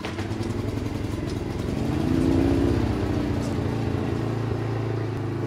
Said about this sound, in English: Maxpeedingrods generator is now on.